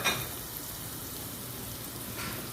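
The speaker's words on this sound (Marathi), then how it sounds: "लसूण घातल्यानंतर कांदा घालतो आहे आपण लसूण चांगला थोडासा लाल व्हायला द्यायचा" Onion and garlic frying in a pan for a spinach curry, a steady broadband sizzle running throughout at moderate level, slightly brighter at the start and near the end.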